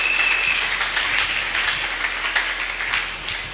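A church congregation applauds during a Sunday worship service, a dense, sustained wash of clapping that gradually eases over a few seconds.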